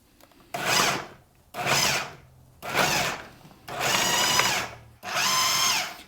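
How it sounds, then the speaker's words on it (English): Food processor pulsing vegetables for a Bolognese: five short, loud whirring bursts separated by brief pauses, close and harsh, each pulse roughly a second long. "we're just gonna pulse this until it gets to a nice kind of even consistency"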